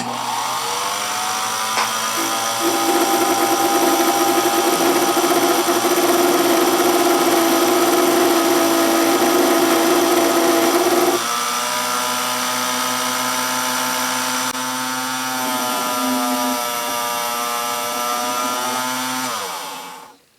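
A small Unimat lathe runs with a steady motor whine while turning a tiny 6-32 screw, the pitch shifting partway through before the machine winds down at the end.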